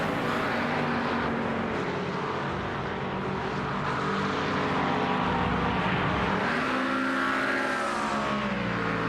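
The number 44 McLaren race car in a sim racing game at Sebring drones steadily with a loud engine roar that shifts pitch as it accelerates and changes gear, continuous and fairly near.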